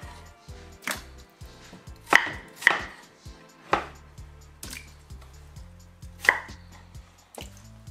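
A knife chops chunky pumpkin, potato and other vegetables for a mixed vegetable soup on a cutting board, with a dozen or so close, sharp strikes spaced irregularly, some much harder than others.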